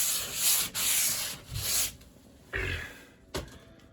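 Sanding a patched drywall ceiling smooth: several close, scratchy abrasive strokes in uneven bursts, pausing between passes, with no talking.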